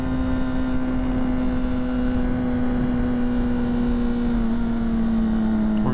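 A motorcycle engine drones steadily and close, with a strong sustained tone and harmonics throughout as the bike pulls away on the road; no talking.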